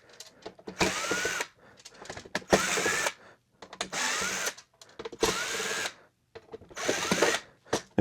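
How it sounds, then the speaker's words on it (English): A power drill on high speed backs fan screws out of a computer case in five or six separate whirring bursts, each about half a second to a second long, with brief quiet pauses between them. "I'm just gonna put the drill on high speed"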